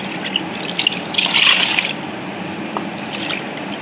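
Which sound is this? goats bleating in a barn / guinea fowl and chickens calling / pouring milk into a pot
pouring milk into a pot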